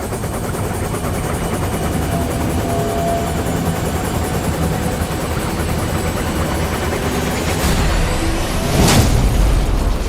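A helicopter engine and spinning rotor blades keep up a steady, loud, even drone throughout, with a brief sharper crack near the end.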